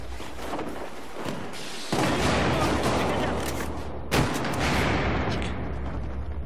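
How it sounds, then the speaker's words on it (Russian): Gunfire rings out from a tower during a Battlefield 4 multiplayer match: dense, continuous shooting and blasts form a loud wall of noise, punctuated by a sharp crack partway through, with voices mixed in. "Из башни стреляли."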